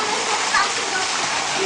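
Rushing waterfall with people swimming and jumping nearby, a dense steady roar of falling and splashing water close by that fills the whole clip, with voices under it.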